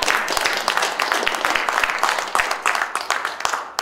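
A campus audience applauds a Fulbright scholar award with steady, dense clapping from many hands that runs the whole time, loud and close.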